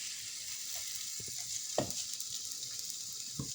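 Burelu cooking in ghee on a pan, a soft steady sizzle with a few scraping stir knocks, quiet and close, no talking.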